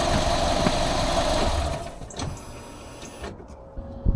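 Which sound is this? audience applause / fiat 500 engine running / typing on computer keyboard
fiat 500 engine running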